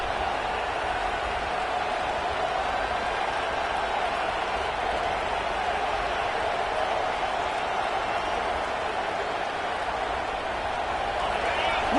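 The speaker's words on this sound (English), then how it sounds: "listen to this crowd noise. This stadium is vibrating" Stadium crowd in the College Football 26 video game, with a steady, loud, roaring wall of cheering and murmur that holds through the whole stretch and never drops away.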